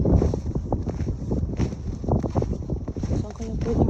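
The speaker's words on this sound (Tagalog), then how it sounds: "Malakas yung hangin." Strong, cold winter wind in Japan roars and buffets a microphone, loud and continuous with gusty surges throughout.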